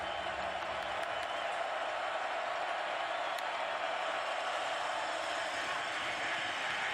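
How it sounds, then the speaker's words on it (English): Stadium crowd at a Texas versus Baylor college football game, a broad continuous roar that holds evenly throughout, distant and washy, with no distinct voices standing out. "First time we've gotten this crowd involved"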